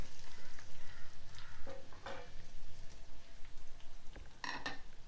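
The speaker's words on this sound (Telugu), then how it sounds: "మెంతి కూర బాగా వేగనివ్వాలి" Fenugreek leaves and curry leaves frying in a pan, a soft steady sizzle with crackling pops and a few scraping stirs, close and fairly quiet, no talk.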